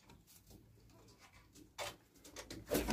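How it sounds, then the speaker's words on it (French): Soft pigeon coos come through faintly in an aviary building, along with light fluttering and shuffling noises, growing a little louder toward the end. "J'ai toujours les pigeons."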